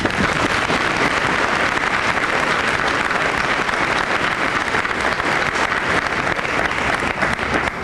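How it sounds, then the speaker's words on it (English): A crowd at a school honor awards assembly gives a sustained round of applause, dense and even clapping throughout, heard close with no speech over it. "I'd like to give all these students on the floor here a nice round of applause"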